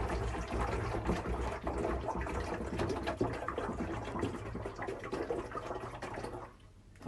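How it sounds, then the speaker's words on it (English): Water pours steadily into the tank of a Geepas ultrasonic humidifier, a continuous splashing, gurgling fill that is close and fairly loud and stops near the end. "this is where you need to put your water"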